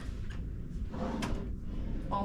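Cruise ship cabin drawers on the Ovation of the Seas sliding open and shut, a few soft thuds and rattles close by, with quiet room tone.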